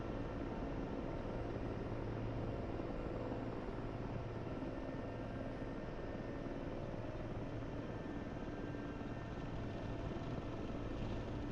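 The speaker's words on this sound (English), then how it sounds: "This rattle is completely normal. It means that you're getting slow." Low-speed helicopter rattle in a flight video game, a steady, dense rotor and engine drone that holds unbroken throughout at a moderate level, with no speech.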